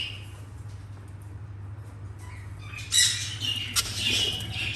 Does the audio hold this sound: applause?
no